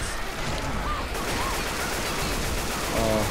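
Rapid gunfire from a semi-automatic shotgun in the video game Left 4 Dead 2, a run of repeated shots in a steady rhythm under a busy game mix with faint voice sounds.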